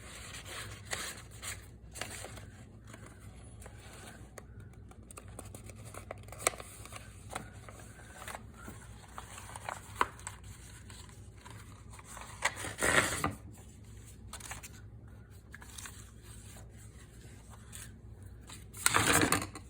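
Paper being trimmed for a junk journal made from a double file folder, with scattered snips and light rustling throughout and a louder burst of handling near the end.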